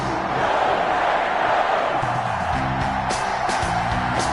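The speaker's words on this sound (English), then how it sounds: "This crowd is ready as their guys get set to match up between the Cleveland Browns and the Green Bay Packers." Stadium crowd noise from an EA Sports NFL video game, Cleveland Browns against Green Bay Packers, a loud continuous roar of cheering with a chanting voice rising over it partway through.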